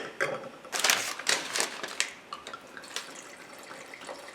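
Water rinsing a wine glass, close and fairly loud at first, with splashing and dripping that taper into scattered soft drips and taps.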